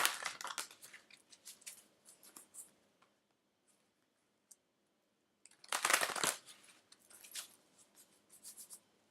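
Deck of reading cards being shuffled by hand: bursts of crisp riffling and card slaps, with a quiet gap in the middle before a louder, longer shuffle, close and alone.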